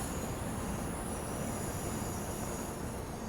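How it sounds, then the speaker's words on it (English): Class 710 Aventra electric train departing a station on the Suffragette line in Train Sim World 4, a steady broadband rumble of wheels and motors with faint high tonal whine, continuous and fairly loud throughout. "There goes that train off to Stratford."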